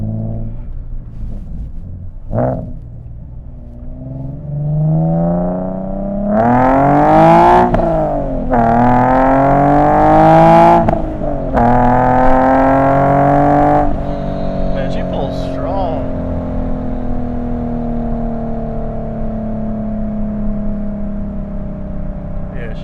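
A Nissan 370Z NISMO with a Fast Intentions exhaust accelerates hard from first gear, loud rising engine revs climbing through several gear shifts before settling into a steady cruising drone.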